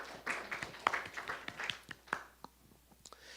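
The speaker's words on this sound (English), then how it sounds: "Give them a big round of applause." Scattered clapping from a small audience applauding volunteers, a few hands clapping unevenly and thinning out toward the end, fairly faint and loose rather than a full ovation.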